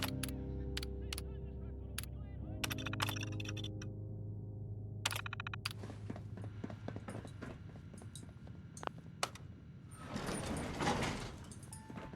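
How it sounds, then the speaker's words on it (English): An elevator in the video game Fallout 4 powers up and runs, with a series of sharp mechanical clanks and latching thuds over a low hum, then a rising whoosh of movement near the end. "power up the elevator"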